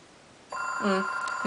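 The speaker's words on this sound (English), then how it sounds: "there's my phone ringing" A phone starts ringing suddenly, a bright electronic ringtone that sounds close and clear against quiet indoor background.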